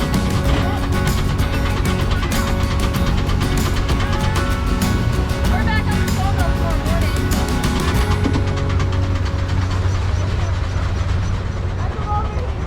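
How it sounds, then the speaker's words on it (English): A four-core steam engine paired with a return-flow Minneapolis steam engine drives a sawmill, giving steady rhythmic chuffing and mechanical clatter with a low continuous drone, loud and close throughout. "Here we've got the 4-core steam engine on the sawmill, paired up with a return flow Minneapolis steam engine."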